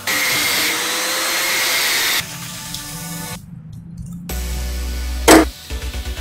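A power tool cuts scrap metal pipe for a bike model sculpture. A loud, steady, high whirring grind lasts about two seconds, then drops to a lower rumble, goes silent briefly, and returns as a hum with short bursts.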